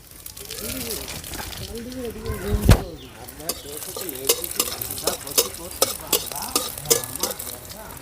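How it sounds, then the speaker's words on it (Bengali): Garlic cloves sizzling in hot oil in a pan after a tempering of dry red chilli, a steady crackling fry with a loud splash of hiss as they go in, then repeated stirring scrapes; a voice talks over it. "দিয়ে দেব কয়েকটা রসুনের কোয়া দিয়ে দেব"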